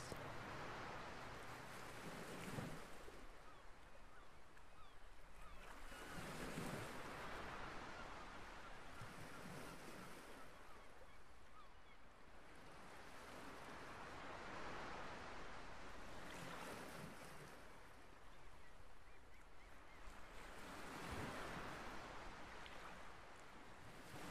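Waves roll onto an empty, deserted beach, each breaking surge swelling and fading in slow, regular cycles about every four to five seconds, with a constant wash of surf and light wind between them.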